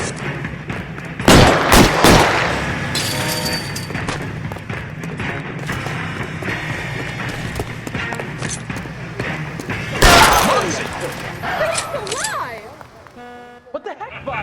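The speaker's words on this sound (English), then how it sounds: "All units, shots fired, officer needs help" Loud gunshots and heavy impacts ring out in an L.A. Noire shootout, with two sharp clusters of close bangs amid busy background noise and voices talking throughout.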